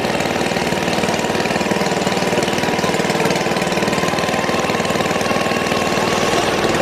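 Motorbike engine running steadily while being ridden along Co Linh street in Hanoi, a close, even, rapidly pulsing mid-pitched putter with a faint rattle, continuous and unchanging, with no talk.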